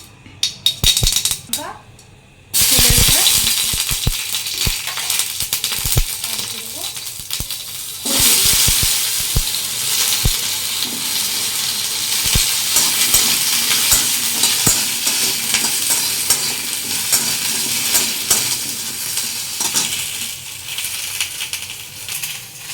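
Mustard seeds crackle and sizzle in hot oil as a tempering for a sour hilsa dish with taro, a dense, steady frying hiss that runs close and loud after a few sharp clatters at the start.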